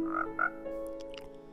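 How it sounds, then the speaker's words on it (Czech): A frog in the video game Minecraft croaks twice in quick succession, then softer game sounds follow over a steady background hum, with no voices. "Tam je nějaká žába"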